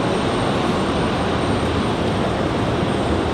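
A Southwest Airlines jet departing Raleigh Durham airport, heard as a loud, steady broadband engine roar that stays constant and close, with no voices over it.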